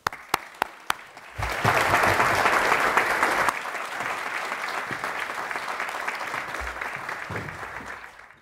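An audience welcoming Professor Daphne Koller with applause: a few isolated claps open, then full, sustained clapping from a crowd that swells, holds for several seconds and gradually thins out.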